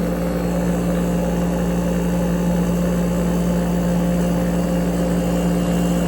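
An air conditioner's rotary compressor runs with a steady, loud, low mechanical hum and constant tonal drone, unchanging and close, with no talking.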